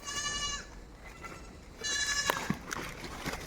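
A goat bleats close by in two drawn-out cries separated by a short pause, with faint rustling and thuds in between.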